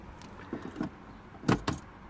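Car keys for a BMW 116i jingle as they are pulled from a pocket, giving a few brief, faint metallic rattles close by, with no talk.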